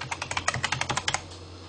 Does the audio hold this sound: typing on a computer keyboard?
yes